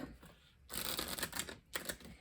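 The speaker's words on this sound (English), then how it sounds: "I did shuffle these really well too. But I'm going to do a couple shuffles." Oracle cards from an Island Time Wellness Oracle deck being shuffled up close: two quick bursts of papery riffling and rustling, separated by a brief pause, with no talking.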